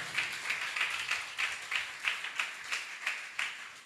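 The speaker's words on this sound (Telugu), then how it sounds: "కొట్ట చప్పట్లు ఒకసారి గట్టి." An audience at a sermon claps in unison, a steady rhythmic beat of about a dozen even claps, moderately loud and alone.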